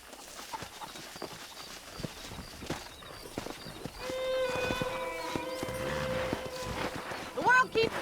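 Horses in the video game Red Dead Redemption, with clip-clop hoofbeats early on, then a loud, drawn-out whinny and a sharp snort near the end, heard close over ambient game sound.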